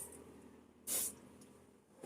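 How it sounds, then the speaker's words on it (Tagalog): Basix upholstery cleaner gives a single short, sharp spray from the bottle, a close hiss lasting under half a second against a quiet room. "Dalawang spray lang tayo."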